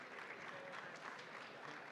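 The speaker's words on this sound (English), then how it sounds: "Come on, give her a round of applause." Audience applause at an awards ceremony, a steady dense clapping from a crowd that fills the whole stretch without a break.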